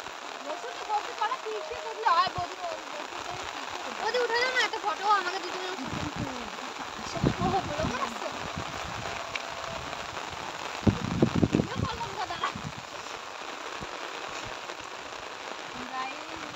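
Monsoon rain pours steadily across an open field and pond, a dense hiss of drops falling on ground and water with bursts of splashing, while people talk and move nearby.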